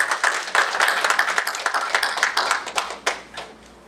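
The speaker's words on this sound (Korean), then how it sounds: "우리 다시 한번 박수로" A congregation claps together during a Sunday worship service in a Las Vegas Korean church, dense steady hand-clapping near and loud that thins out and fades toward the end.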